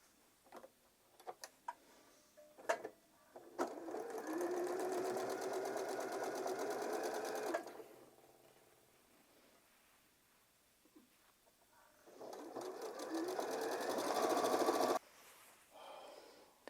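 A sewing machine stitches a seam along joined fabric strips in two steady runs of several seconds each, separated by a pause with faint handling clicks and taps.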